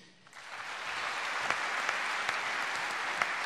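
Applause from an audience honouring a footballer's trophies starts quietly, then swells into a steady dense wash of clapping with a few sharp individual claps standing out.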